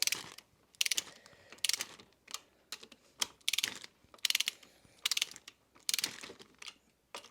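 Bolts being snugged by hand on a Honda 250R, giving bursts of quick close ratcheting clicks in a steady on-off rhythm, with quiet pauses between each run.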